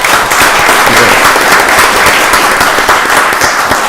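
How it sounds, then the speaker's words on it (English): Loud, sustained applause fills a county commissioners' meeting room, many people clapping at once in a thick, even roar that keeps going without a break. "Give him another round of applause."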